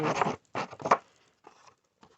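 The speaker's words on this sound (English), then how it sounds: "So just get your scissors and just drag it along like so." Scissors blade dragged along the edge of craft paper for a wedding card front, giving three quick rasping scrapes close up, followed by fainter scratchy strokes and then quiet.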